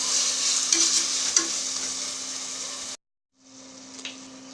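A large tomato fries in a pan for paneer dum biryani, a steady close sizzle with scraping stirring strokes, a short pause, then the frying hiss resumes, with no talk.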